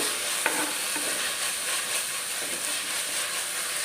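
Ginger and garlic fry in a pan while being stirred, giving a steady close sizzle with a few soft scraping strokes and no talk.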